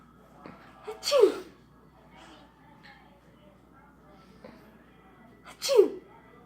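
An adult sneezes twice, about four and a half seconds apart. Each one has a short indrawn breath and then a sharp, loud burst close by, with quiet room noise and a faint voice between them.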